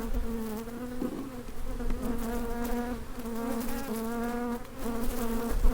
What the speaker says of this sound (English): I'm gonna go ahead and put all these bees in here though.